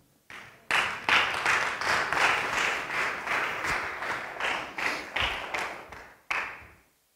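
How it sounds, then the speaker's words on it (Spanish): A church congregation clapping in praise during a Spanish-language sermon, rhythmic hand claps in a steady beat that starts abruptly, runs strongly and briefly pauses near the end before one last burst fades out. "Dele una alabanza de palmas al Señor."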